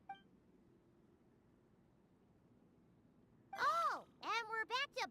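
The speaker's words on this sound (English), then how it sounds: "Oh, and we're back to beep beep again?" Electronic machine beeps from the video game Genshin Impact: a quick burst of warbling, chirpy tones after a quiet stretch, followed by several rapid rising-and-falling bleeps, loud and close.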